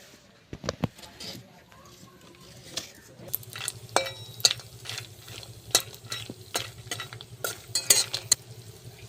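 Peanuts frying in a pan for Kolkata-style vegetable chops, heard as busy clattering, scraping and rattling of nuts stirred against the metal over a low sizzle, close and irregular.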